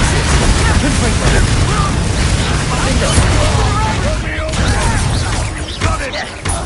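A Confringo blasting spell in a Harry Potter video game erupts in dense, crashing bursts amid chaotic battle noise, loud and sustained, with voices shouting over it.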